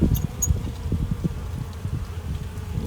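Honey bees buzz steadily around a full, very active hive, a dense low hum with scattered individual buzzes close to the microphone, continuous throughout with no talk.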